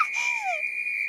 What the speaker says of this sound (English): Wow, that's even louder than your whistling, Lily.